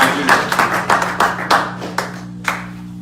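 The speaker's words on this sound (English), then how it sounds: "A round of applause for the idea" Scattered hand claps from a small crowd at a political fundraising event, a dozen or so sharp, uneven claps over a steady background hum, close and distinct.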